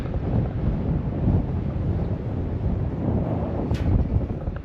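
Steady wind buffeting the microphone on the summit of O'Leary Peak, a mountain in northern Arizona, roaring continuously and loud throughout with no voices.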